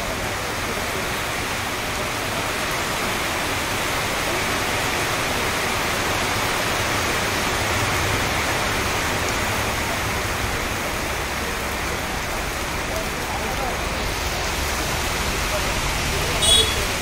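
Steady heavy rain pouring down at an outdoor stop on a journey to Makkah, a dense continuous hiss with a low rumbling undertone that stays even throughout.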